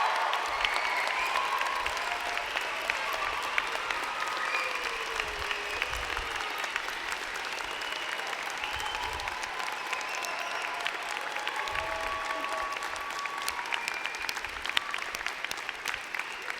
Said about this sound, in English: I ask your friends, family, and members of the platform to join me in applauding the amazing graduating class